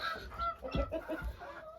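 Young hens cluck softly at close range in a straw-bedded coop, several short murmuring clucks in quick succession, fairly quiet.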